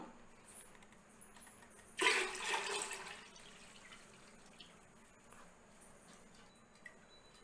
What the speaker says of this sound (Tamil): இதில் இப்போ நம்ம அரைச்ச மாவை ஊற்றிடலாம்.